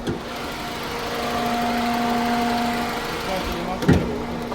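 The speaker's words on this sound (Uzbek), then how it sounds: "shu sababdan motorning ovozi baland" A Chevrolet Lacetti engine idles with the air conditioner running, a steady hum and a fan-like whir, at a car market, a person talking over it, and a brief knock near the end.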